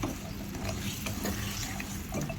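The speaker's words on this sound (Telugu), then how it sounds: "బెల్లం కూడా వేసుకొని కొంచెం వాటర్ పోసుకొని" Water splashes onto jaggery in a hot pan with a brief sizzle, a close, continuous gushing sound under light scraping.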